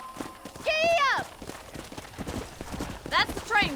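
Horse hooves clip-clop at a brisk gait in the Red Dead Redemption western game, a steady rhythmic patter of hoofbeats under snatches of whinnying and neighing.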